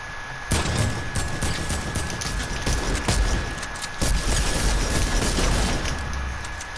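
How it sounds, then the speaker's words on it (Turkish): Rapid bursts of game gunfire from a new weapon in Fortnite, loud and close, with repeated sharp cracks over a steady rumbling bed and a constant high tone. "Bakalım bir deneyeceğiz yeni silah nasıl olmuş diye."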